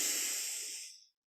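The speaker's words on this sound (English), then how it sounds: "Deep inhale." A single deep inhale through the nose during a kundalini yoga practice, a close, airy hiss that swells and then tapers off into silence after about a second.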